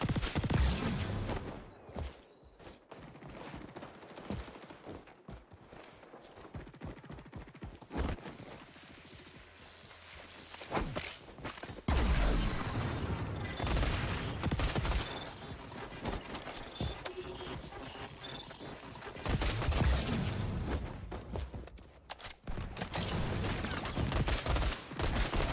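Rapid gunfire bursts from the online shooter XDefiant crackle through most of the stretch, with a quieter lull in the middle before dense volleys return, loud and close.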